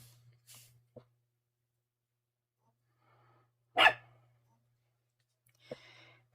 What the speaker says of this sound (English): I just looked up because she barked.